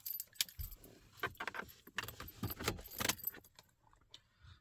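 Keys to a Tata Tiago EV car jangle and clink in several quick bursts, close and fairly loud, with a faint car-like hum underneath.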